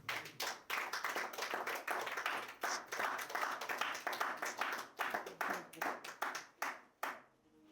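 A church congregation claps together in praise of the Lord, a steady run of sharp, fairly close handclaps that keeps going for several seconds and then stops, with no voices over it.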